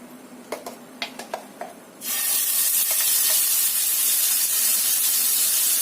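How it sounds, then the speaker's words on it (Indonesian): A few quick clinks and scrapes, then a sudden loud, continuous sizzling hiss as ground spice paste with turmeric hits hot oil, steady to the end. "Ini kita tumis bumbu yang kita haluskan tadi."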